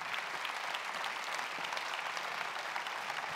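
Dense audience applause at an evening launch event for the AKT for Wallonia identity, a sustained wash of many hands clapping at even loudness throughout, with no voices over it.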